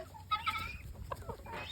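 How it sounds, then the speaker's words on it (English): A rooster clucks softly in a short, quiet run of low throaty calls with faint background noise. "There's my rooster right there."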